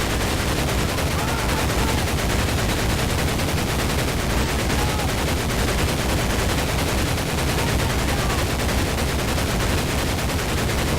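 Dense gunfire rattles without pause in the 2004 PC shooter Medal of Honor Pacific Assault, rapid shots and bursts piling into a constant loud barrage with no gaps.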